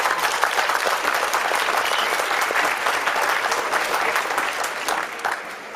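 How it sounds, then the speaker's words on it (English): Sustained audience applause fills a large hall at Nintendo's E3 2011 conference, with dense clapping and crowd noise honoring the orchestra after a Legend of Zelda 25th Anniversary Symphony announcement, loud and steady throughout. "let's give a big round of applause for our orchestra today"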